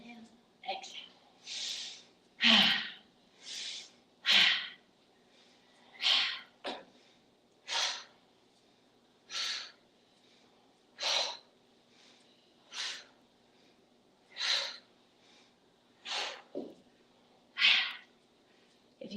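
Deep tai chi breaths drawn in and pushed out in a slow, even cycle, about a dozen soft airy bursts close to the mic with quiet gaps between them.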